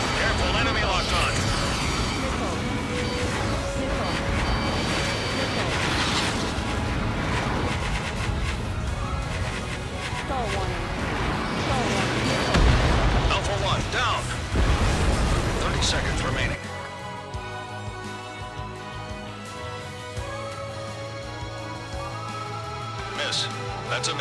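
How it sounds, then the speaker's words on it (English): Missile fire and explosions in a video game, a dense, continuous roar of blasts and rumbling impacts that drops off abruptly near the end, with voice callouts heard throughout. "Missile fire."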